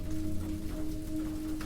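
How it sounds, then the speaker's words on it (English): Steady rain patters continuously at a calm, even level, a close and moderate wash of drops with a low hum underneath. "And as the rain continues"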